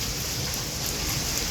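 Steady rain falls in a dense, even hiss of drops striking surfaces, continuous and close with no pauses or voices.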